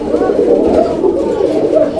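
Close, loud pigeon cooing fills a pigeon fair stall, a continuous run of low, throaty murmurs with no break.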